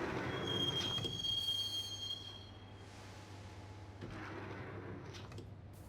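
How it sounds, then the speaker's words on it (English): A subway train ride in the video game Max Payne: a steady underground rumble with a thin squeal of wheels early on, a short lull, then the rolling noise swelling again, fairly quiet and without voices. "the train doors had already shut behind me, and I was in for the ride"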